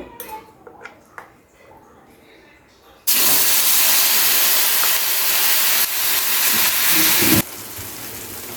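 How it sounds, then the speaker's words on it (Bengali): Bean and prawn-head paste hits hot mustard oil in a pan with a loud, sudden burst of steady frying hiss that holds for several seconds, then drops to a softer sizzle. "তেলটা গরম হয়ে গেছে, এরকম হালকা গরম হয়ে গেলে তখন এর মধ্যে দিয়ে দেবো এই বাটাগুলো"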